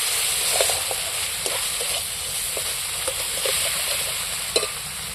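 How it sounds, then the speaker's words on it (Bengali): A spice mixture with chili and salt fries in a pan for egg curry, giving a steady sizzle throughout with a few soft stirring scrapes and small pops, close and fairly loud. "এর মধ্যে দিয়ে আবারও আমি মশলাটাকে ফের ভেজে নেব একটু"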